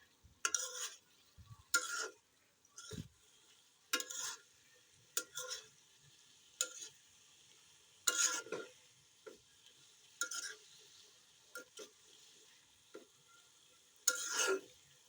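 Chalta (elephant apple) pickle being stirred with cumin powder in a pan, giving a series of short, separate scraping stirs spaced about a second or two apart, close and fairly quiet, with no talking.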